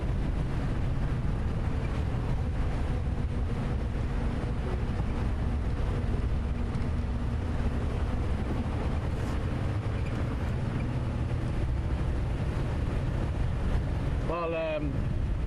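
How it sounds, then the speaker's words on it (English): Warm summer wind buffets the microphone on an open-vehicle safari sunset drive, a steady broadband rumble that stays loud throughout, with a brief voice near the end. "Quite windy as well, if you hear the noise."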